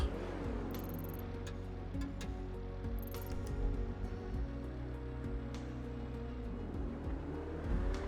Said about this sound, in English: Car sounds close.